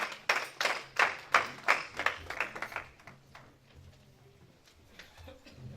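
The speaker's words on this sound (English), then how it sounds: "Let's give God a clap of praise." A church congregation at a Christmas service claps in praise, a run of sharp, fairly close claps that fade out after about three seconds into a quiet, reverberant room.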